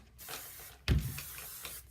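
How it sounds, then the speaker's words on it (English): Hairspray misted onto hair while small-wand curling, a short soft hiss burst after a quiet rustle, faint and close. "Some spray on it."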